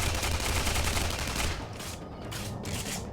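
Rapid automatic assault rifle fire from the video game Tribes Ascend, a loud continuous burst that eases after about a second and a half, then comes back in shorter pulses.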